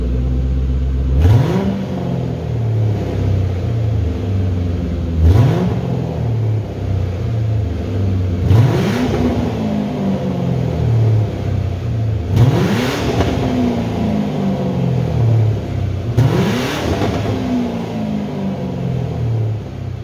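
A 1997 Mercury Cougar engine revs up five times in a row, each rise sweeping sharply upward then dropping back to idle, loud and close with no talk.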